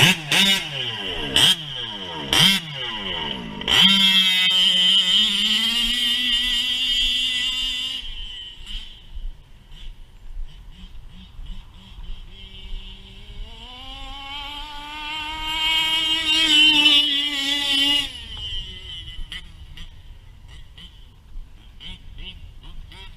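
A 1/5 scale nitro RC race car engine running loud and close: a few sharp throttle blips, then a high, sustained buzzing wail that rises, falls away and swells again, with a voice speaking briefly.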